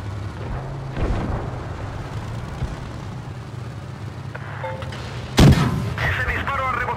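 Tank cannon fire in World of Tanks Blitz: a rumbling engine-and-battle bed broken by a few heavy booms, with one sharp, loud blast near the end, followed by ringing debris-like rattles.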